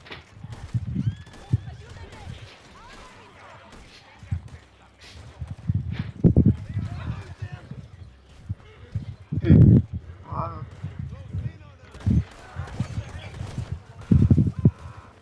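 Horse hooves clip-clopping in Red Dead Redemption 2, irregular bursts of hoofbeats and footsteps around a camp, close and fairly loud, heard under frequent casual talk from players.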